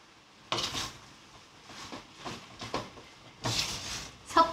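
A utensil stirs shrimp fried rice with sesame seeds in a pan, giving several soft scraping clatters and taps at irregular intervals, fairly quiet and close, with no talking.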